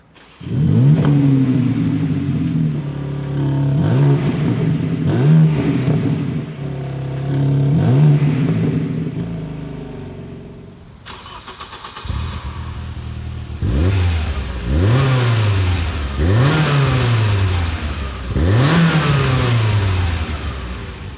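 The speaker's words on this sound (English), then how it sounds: "Here, the 3-liter inline 6 bi-turbo, 480 horsepower or 510 horsepower here in the competition version" A BMW M3 (G80) 3-liter inline-six twin-turbo engine revs repeatedly, rising in pitch and dropping back in a steady series of bursts, loud and close, with no talking.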